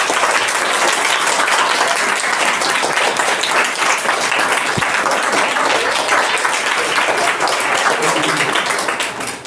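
A classroom audience gives loud, sustained applause to welcome guests from Himalayan Steel and Matrika Nepal at a school digital-class demonstration, dense clapping throughout that tapers slightly at the end.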